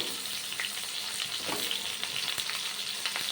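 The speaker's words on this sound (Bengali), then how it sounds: "পটলগুলো একটু নুন হলুদ দিয়ে খুব ভালো করে ভেজে নেব।" Sliced pointed gourd fries in hot oil with salt and turmeric, giving a steady crackling sizzle with faint stirring clicks throughout.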